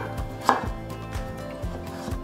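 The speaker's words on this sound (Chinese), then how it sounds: "把红萝卜切片" Kitchen knife slicing a peeled carrot on a cutting board, a steady run of crisp, close chops in an even rhythm with one sharper strike early on.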